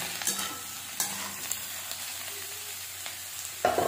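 A kilo of ridge gourd (nenua) stir-fries with golden-brown onions in a pan, giving a steady sizzle broken by several sharp scraping clicks of a spoon.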